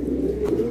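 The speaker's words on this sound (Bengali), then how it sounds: "এগুলা হাউস পিজনের বেবি" House pigeon babies cooing at a pigeon loft, a steady low throaty coo held through the short moment, close and fairly loud with no voices.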